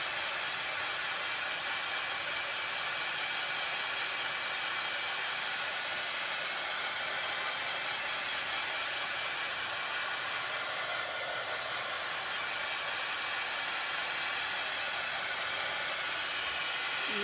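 A hair dryer blows steadily and loudly up close to dry Waverly chalk paint on a Dollar Tree tray, a constant unbroken whooshing hiss that never changes.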